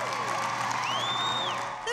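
A crowd cheering and applauding for the president at a Miami morning show event, steady close cheers with a whistle-like rising tone over the noise, lasting about two seconds.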